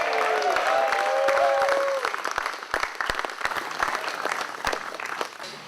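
An audience bursts into loud applause with cheering and whistles, a dense clapping roar that thins into scattered claps after a couple of seconds, with voices mixed in.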